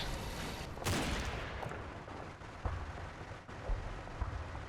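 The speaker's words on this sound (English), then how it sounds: "this half-track's careering down the road and getting taken out by the MG" Machine gun fire and impacts on a half-track in the Normandy wargame Combat Mission, a burst of loud cracks followed by scattered thuds and distant rumbling.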